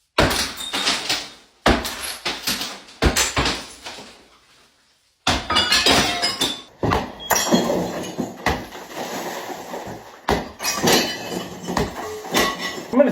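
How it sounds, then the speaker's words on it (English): Old shower tiles smashed off a wall during a bathroom renovation, with loud crashing, cracking and clattering debris in repeated bursts broken by short pauses, close-up and continuous toward the end. "But now the shower is ready for smashing."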